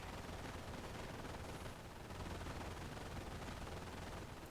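A machine gun in Company of Heroes fires a steady, dense stream of rounds with no break, fairly faint and muffled under a constant wash of battlefield noise.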